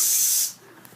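An air blower clearing off a torn-off, power-washed deck being waterproofed: a loud close hiss of rushing air that cuts off abruptly halfway, leaving a quiet background.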